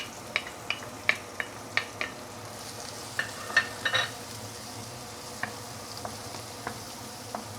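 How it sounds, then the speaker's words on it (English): Fresh herbs and garlic sauté in hot oil for braised pork leg, giving a faint, steady sizzle broken by scattered light clicks and taps from a utensil in the pan. "I'm going to saute the fresh herbs first. Give it some oil and heat it up."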